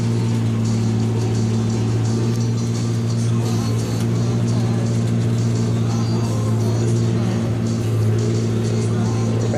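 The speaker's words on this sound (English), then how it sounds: "We're going to back her up." A John Deere tractor engine runs while the tractor backs up, a loud, steady low hum and drone that holds without a break.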